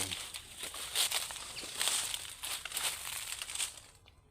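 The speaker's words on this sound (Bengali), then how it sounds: "পায়ের নিচে শুকনো পাতার মরমর শব্দ" Dry fallen leaves crunch and crackle underfoot in the natural Bhawal forest, in a run of close, loud, evenly paced steps that stop abruptly at the end.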